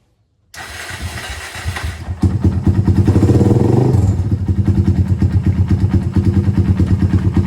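A Kawasaki W175 motorcycle, fitted with a Suzuki Satria FU starter drive, cranks briefly and then catches, settling into a loud, close, steady thumping idle with a rhythmic single-cylinder beat.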